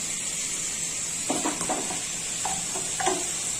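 Water goes into a pan of frying rohu fish curry, and the steady loud sizzle and hiss carry on as a few soft clinks and scrapes of stirring break through, with no talk.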